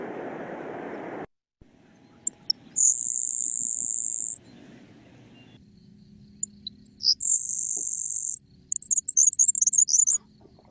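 Two high-pitched buzzy songs, a Savannah sparrow then a grasshopper sparrow, each a thin insect-like trill lasting a second or two, heard alone against a quiet background after a brief burst of noise at the start.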